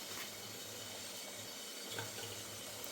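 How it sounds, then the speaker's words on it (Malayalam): Water boiling inside an idli steamer pot on the stove, giving a steady, close, continuous bubbling hiss with a low rumbling undertone throughout. "നമ്മുടെ ഇഡലി പാത്രത്തിനകത്ത് വെള്ളമൊക്കെ തിളച്ച് വന്നിട്ടുണ്ട്"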